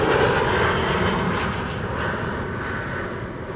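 Jet engines of a KLM Embraer 175 running at Amsterdam Schiphol Airport, a steady loud broadband roar with a faint high whine, holding even throughout with no voices.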